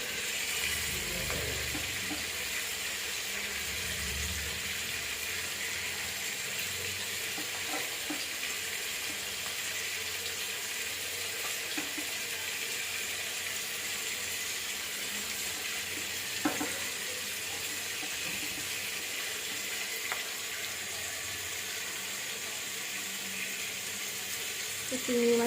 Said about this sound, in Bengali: তো চিংড়ি মাছের বড়াটা ভাজা হোক